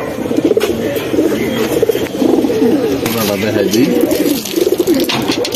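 Several pigeons, including an adult working male, coo in repeated rolling bursts close by, loud and steady, with someone talking at times over them.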